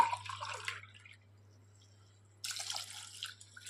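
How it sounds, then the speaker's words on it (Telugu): Water pours into a pot in two short splashing bursts separated by a quiet pause, with a low steady hum underneath. "ఇప్పుడు 2 గ్లాసుల వాటర్ వేసుకుంటున్నాను"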